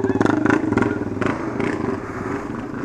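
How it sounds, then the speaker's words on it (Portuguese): A loud motorcycle engine with a harsh, rattly exhaust made from a fire extinguisher canister, revving and popping in rapid pulses before settling to a rough idle, close by. "Um fundo de extintor de incêndio ali pra fazer barulho"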